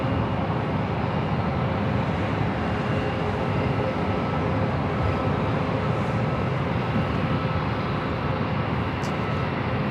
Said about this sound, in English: 3265 heading to Vegas, and the 737 MAX 8 will be followed by JetBlue Flight 524